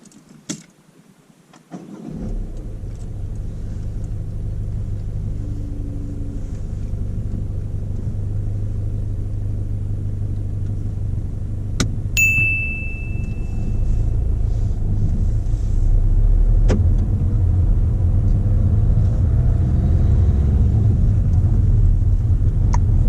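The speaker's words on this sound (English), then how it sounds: "we'll go engine on, drive away when it's safe to do so" A car engine starts after a brief quiet moment and settles into a steady low rumble that builds slightly as the vehicle pulls away, with small clicks along the way.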